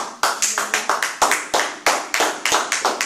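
A church congregation claps hands in acclamation of Jesus, a loose, fairly close run of sharp claps in an uneven rhythm without talk.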